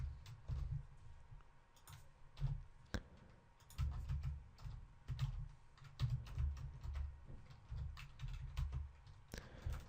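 Rapid clicking of a computer keyboard as a query is typed, steady irregular keystrokes close by with a low background hum.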